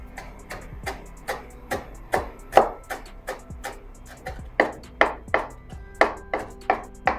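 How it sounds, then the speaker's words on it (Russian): Fresh parsley and dill are chopped with a knife on a board for smoked pea soup, giving a steady run of crisp, close knocks, about two per second, with no talk. "мы измельчим зелень. Немного свежей петрушки и укропа будет очень кстати"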